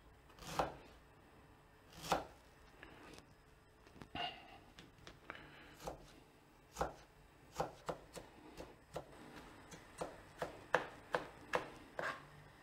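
A knife chops ginger on a board in irregular, crisp thuds, sparse at first and then quickening into a steady run of close, moderately loud cuts, with no talking.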